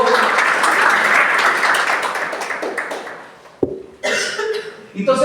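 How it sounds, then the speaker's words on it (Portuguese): Church congregation breaks into loud sustained applause during a Catholic sermon, dense clapping that gradually thins and fades, followed by a few scattered claps and brief voices at the end. "Pode aplaudir a palavra do Senhor."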